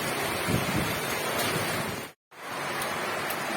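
Strong wind roars with rain in a steady broadband rush, buffeting the microphone, broken by a brief moment of silence partway through.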